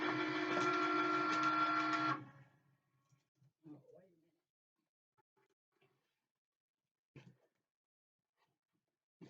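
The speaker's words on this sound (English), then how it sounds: "I'm going to let my Cricut Maker cut it out for me." A Cricut Maker cutting machine cuts heat transfer vinyl with a loud, buzzing motor whir for about two seconds. It then stops, leaving near silence broken by a few faint clicks and taps.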